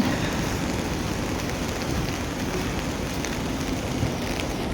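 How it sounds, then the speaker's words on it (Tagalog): Steady, dense hiss of heavy rain falling continuously in Hong Kong, loud and unbroken with no voices. "malakas na yung ulan, lumalakas yung ulan."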